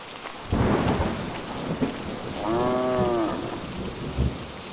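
Heavy rain pours steadily while deep thunder rumbles close by, and a cow lows once in the middle of the downpour.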